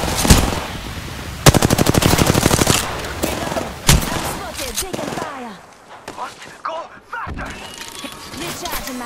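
Machine gun fire in a video game rattles in loud rapid bursts near the start, then single sharp shots and fainter fire follow, with in-game voices speaking.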